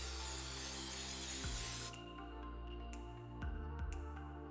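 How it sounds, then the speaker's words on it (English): Cooking spray hissing onto 9 by 5 inch bread pans: a loud, steady aerosol hiss that cuts off abruptly, then a quiet close background with light knocks and handling. "We're going to spray them first."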